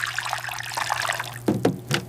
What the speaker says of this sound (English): Pour the milk.